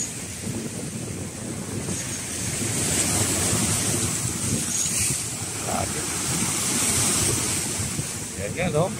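Rough sea waves churn along Manila Bay, a loud continuous wash of surf mixed with heavy wind buffeting, swelling and easing over several seconds with faint voices underneath.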